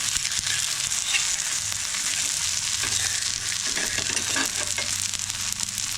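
Thalipeeth, a flatbread of wheat, rice and chickpea flour, frying in oil on a pan over medium heat and being flipped, giving a steady broadband sizzle with low hum underneath and a few soft scraping touches, with no talking.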